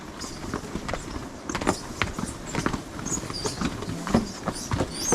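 Several people's footsteps running and slapping on wet stone steps at a hillside waterfall trail, quick irregular close steps with scuffs, under a steady roar of rushing water.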